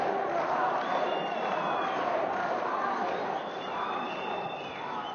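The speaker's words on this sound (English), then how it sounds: "Crowd's been waiting for this one." A crowd cheers and roars continuously at a Eagles kickboxing fight between fighters from Belarus and Moldova, a dense, fairly loud arena wash with a few whistles rising above it, fading slightly toward the end.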